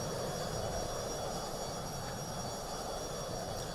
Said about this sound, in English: The sounds of the engines themselves, I think, still need a lot of work.